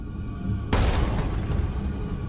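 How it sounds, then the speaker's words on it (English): A sudden loud crash of breaking glass bursts in after a quiet moment, followed by a sustained noisy clatter and rumble that stays loud to the end. "All of a sudden, there was a loud crashing sound."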